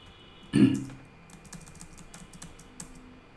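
Keys clatter on a computer keyboard as a formula is typed, opening with one loud thump followed by a quick run of lighter, close, irregular keystrokes.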